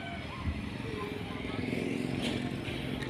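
A motorcycle passing on a busy residential street, a steady close engine drone with a buzzing tone under street background noise and a person talking.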